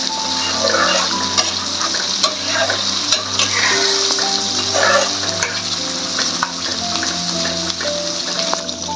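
Green peas tip into a masala of yogurt-ground spices, onion and tomato for matar paneer and are stirred in hot oil. A steady loud sizzle carries on with scraping stirs throughout, close up, with no voices.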